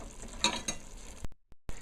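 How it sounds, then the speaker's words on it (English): Spoon stirring canned beans in a cooking pot, a few quick scraping, clattering strokes close by over a faint simmer, ending in brief pauses. "So I throw the beans in it, and I'm stirring it back another time."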